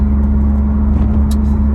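A car's engine idles steadily while warming up before a car meet, a low continuous hum with a strong droning tone, close and unbroken throughout, no voices.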